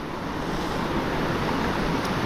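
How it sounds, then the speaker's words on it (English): A full, fast-flowing river rushes steadily in winter upland country, a broad continuous wash of water noise close by with no voices. "Plenty of water in this river today."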